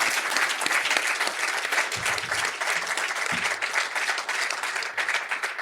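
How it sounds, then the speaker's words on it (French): An audience applauds steadily for several seconds after a panel discussion with sailors, a dense, continuous clatter of many hands, loud and close throughout. "Un grand merci, on va vous applaudir une première fois."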